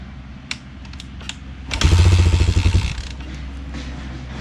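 A Yamaha XT350 motorcycle with a newly installed carburetor cranks with a few mechanical clicks, then catches and runs loudly for about a second before settling to a steady idle, close by.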